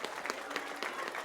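Audience clapping at a high school football game, quiet and distant, with uneven bursts of hand claps rising and falling over a short stretch.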